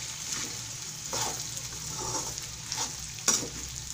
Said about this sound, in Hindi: अब इसमें हम सबसे पहले साबूदाना डाल देते हैं, मिक्स कर दीजिए।